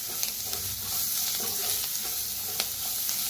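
Turmeric roasting in a hot pan with oil, a steady sizzle under scraping stir strokes and a few sharper clicks, close and alone.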